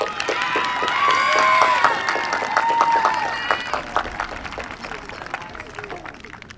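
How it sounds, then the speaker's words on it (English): Audience applause for award recipients at a senior awards night, broad clapping mixed with cheering and a few shouts, a voice or two talking over it, loudest early on and thinning toward the end. "a round of applause for all of our recipients"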